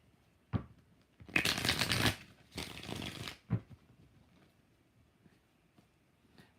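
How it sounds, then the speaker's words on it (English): A tarot deck shuffled in two quick riffling bursts, with a few soft taps of the cards before and after, close and clear. "Let's do 5 shuffles."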